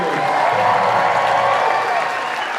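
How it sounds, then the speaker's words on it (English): Sustained clapping fills a school gymnasium as the crowd at an all-city band concert applauds the 6th graders; loud, steady, with faint cheers and voices mixed in. "Round of applause for all of the 6th graders."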